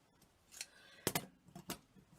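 Scissors trim paper for a small Christmas tree craft: a few quiet, crisp snips in short clusters, close by in a hushed room, with no speech.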